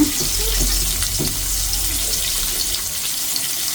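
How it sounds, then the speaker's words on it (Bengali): Fish frying in a pan, a steady, dense hiss and crackle of hot oil that carries on without a break, close and fairly loud, with no voices. "সবগুলা মাছ দিয়ে নিছে ভাজি করার জন্য"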